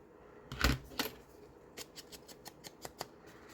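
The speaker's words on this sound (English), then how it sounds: "I'm going to straighten that off and cut it off." Scissors cutting paper for a double-pocket paper craft page: two strong, close snips followed by a quick run of lighter, evenly spaced cuts, alone with no voices.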